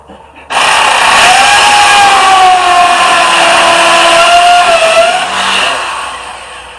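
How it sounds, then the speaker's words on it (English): A powerful electric drill whirs loudly and steadily for several seconds, its high motor whine holding a constant pitch before it winds down. "Now we got to go get that real powerful drill."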